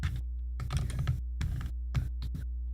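Several computer keyboard keys pressed in quick clusters for a Command-K shortcut in a music recording setup, sharp clicks over a steady low hum, with no talking.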